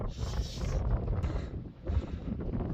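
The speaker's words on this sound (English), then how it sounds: "just get out of that wind" Cold wind gusting hard across an open outdoor moor, a loud, steady roar buffeting the microphone with a brief lull midway before it surges again.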